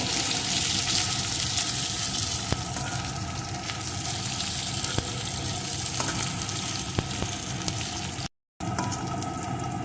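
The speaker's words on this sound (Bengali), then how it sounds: "এখন আলুটাও কিছুক্ষণ ভেজে নেব এই আলু ভাজার সাথে সাথে পেঁয়াজটাও কিন্তু আর একটু ভাজা হয়ে যাবে" Potato pieces fry with onion in oil in a pan, giving a steady, close sizzle with a few faint clicks and one brief cut-out near the end; no one speaks.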